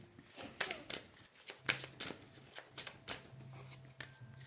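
A deck of tarot cards is shuffled by hand in a series of quick riffling bursts, close and fairly crisp, with short pauses between them.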